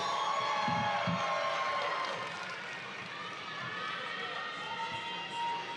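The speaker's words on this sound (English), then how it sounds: "If you got family here, it's time to cheer." Family members in a graduation ceremony audience cheering and whooping, a burst of shouts and hollers at first that settles into a softer, sustained crowd roar in a large hall.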